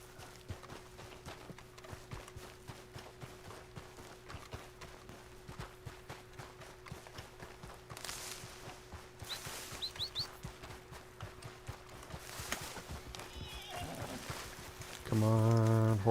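Galloping horse hooves in Red Dead Redemption Online, a steady rapid clatter of hoofbeats running through most of the stretch under a low game ambience hum, with brief speech and a louder burst near the end.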